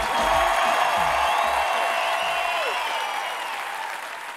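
A comedy show crowd applauding and cheering loudly, a steady wash of clapping and whoops that holds up before easing off slightly.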